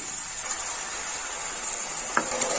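Onion and potatoes drop into a pan of frying garlic, giving a steady, close hiss of sizzling oil with a couple of small clinks near the end.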